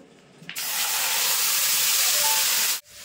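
Sugared raw mango goes into a hot wok and bursts into a loud, steady sizzle that hisses for about two seconds before cutting off abruptly.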